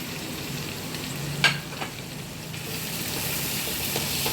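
Tomato masala with chili powder and spices sautés in a pan, a steady close sizzle with a couple of sharp stirring knocks partway through.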